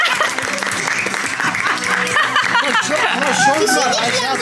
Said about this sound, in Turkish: Alkış yapın hepiniz.